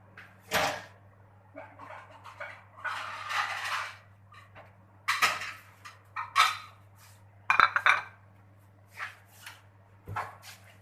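Fried samosas lifted out of a pan of hot oil, with a run of light clinks and scrapes of a utensil against the pan, several sharper knocks, and a steady low hum underneath; no one speaks.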